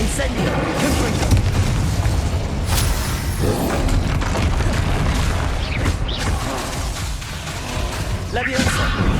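A Confringo spell blast booms in the Hogwarts Legacy video game, part of a loud, continuous battle mix of rumbling impacts and magical effects heard up close.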